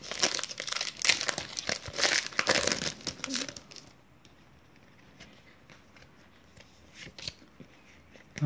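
A Match Attax Champions League 16/17 trading card packet is torn open with loud crinkling foil wrapper for a few seconds, followed by quieter soft rustling and card handling.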